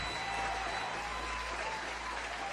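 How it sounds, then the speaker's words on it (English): Studio audience applause on a talk show, a continuous bed of clapping and crowd murmur at moderate level, with faint talk mixed in. "How about another round of applause?"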